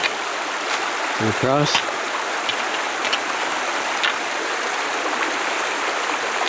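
A creek rushes and gurgles in a steady, close wash, with a brief spoken phrase near the start.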